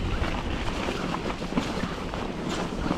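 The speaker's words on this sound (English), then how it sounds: "The only good thing is you've got a tailwind coming up here" Wind rushes past steadily while riding on a miserable day, a constant loud roar buffeting the microphone without letup.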